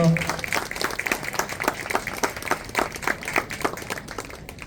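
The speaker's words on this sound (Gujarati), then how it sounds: "સાહેબ જોરદાર તાળીઓ." Loud, dense applause from a wedding crowd fills the whole stretch, a steady patter of many hands clapping together with faint voices mixed in.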